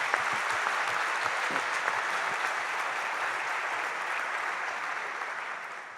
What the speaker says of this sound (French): Applaudissements à tous.